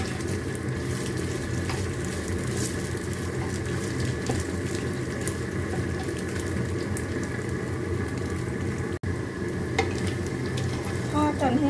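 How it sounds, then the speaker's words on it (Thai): Pork sausage frying crisp in a small amount of oil, a continuous close sizzle and crackle that holds steady throughout, with one sharp click near the end and no talking. "ทอดให้กรอบตามที่เราชอบใจเลยค่ะเพื่อนค่ะ เราจะไม่ใช้น้ำมันเยอะนะคะจะทอดกรอบค่ะ"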